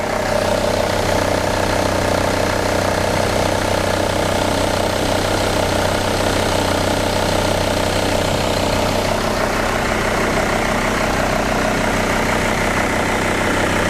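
A car engine idles steadily during a cylinder head gasket test, a loud, constant low rumble that holds unbroken throughout with no talk over it.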